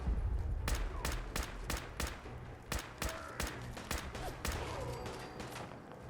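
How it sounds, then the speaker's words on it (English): Rapid bursts of enemy gunfire in Fallout 4 crack out in a loose volley of about a dozen sharp shots, some clustered close together, over a low rumbling ambient bed. "Who's shooting me?"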